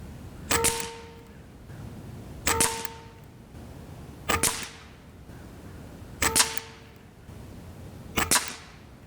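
Five sharp shots from an Evanix AR6K PCP air rifle firing Atomic FX pellets, evenly spaced about two seconds apart, each a crisp crack with a brief ringing tail, outdoors with steady wind noise underneath.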